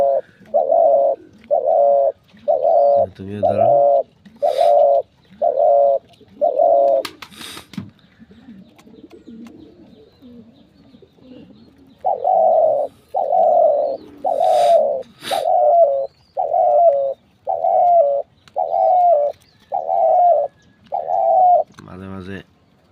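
Pet pigeons coo in a long, steady series of loud, evenly spaced rolling calls, close by, broken by a quiet gap in the middle; a person speaks briefly.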